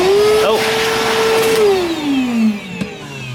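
An Evolution R11VAC-Li cordless wet and dry workshop vacuum runs loudly with a steady whine, then its pitch drops as it winds down, with a person talking over it.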